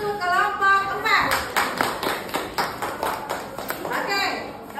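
Classroom applause for a student group, a burst of clapping from many hands lasting several seconds, with rapid overlapping claps near and moderately loud, voices faintly mixed in at the start.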